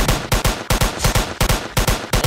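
Rapid bursts of automatic gunfire from a Roblox shooter game, the alien-infiltration mode Incursion, firing in quick repeated volleys at close range with no talking over it.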